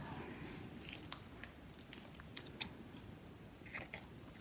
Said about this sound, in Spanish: Aquí tengo mis tijeras.